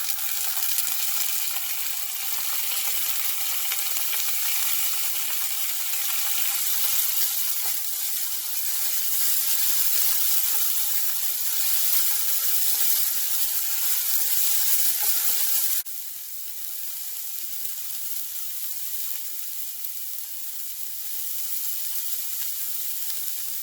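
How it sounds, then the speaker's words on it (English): Cooked bitter gourd frying with softened onions in a pan gives a steady, fairly loud hiss that holds for over twenty seconds, then eases a little partway through and carries on at a lower level with no talking. "Add the cooked bitter gourd."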